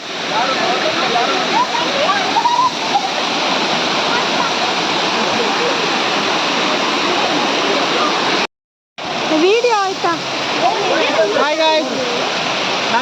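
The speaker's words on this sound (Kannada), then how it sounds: "ನೋಡಿ ಇಲ್ಲಿ ಜಲಪಾತ, ಸಣ್ಣಕ್ಕೆ ನೀರು ಬರ್ತಿತ್ತು, ದೊಡ್ಡಕ್ಕೆ ನೀರು ಬರ್ತಿತ್ತು" Steady, loud roar of Sirimane waterfall in the dry season, with a low flow of water, fills the whole span, broken by a brief gap; voices talk over the constant rush of falling water.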